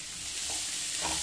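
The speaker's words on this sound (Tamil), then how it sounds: "1 கைப்பிடி வந்துட்டு பெரிய வெங்காயம் பொடியாக நறுக்கந்தை வந்து சேர்த்து நல்லா இதை வந்துட்டு வதக்கிக்கலாம்." Chopped big onion sautéing in a pan with mustard seeds, cumin, curry leaves and garlic for a long-bean stir-fry, a steady close hiss of sizzling oil with soft stirring, no talk.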